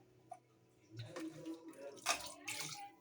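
Water splashes and trickles into a pan of chicken gravy during home cooking, a few soft pours and drips heard up close at low volume.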